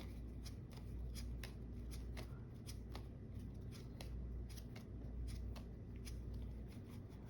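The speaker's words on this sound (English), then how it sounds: "so we discard 10 cards" Playing cards discarded one after another from a deck during a Marvel Champions card game, a steady run of short crisp snaps and flicks close by over a low background hum.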